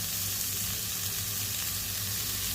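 Fish frying in oil on a flat tawa gives a steady, dense sizzle that crackles evenly throughout, with no voices.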